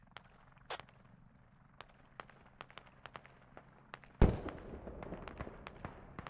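In the Squad war game, an artillery strike lands during a VDV airborne assault against militia squads. Scattered sharp cracks lead to one loud, close blast that trails off into rumbling crackle.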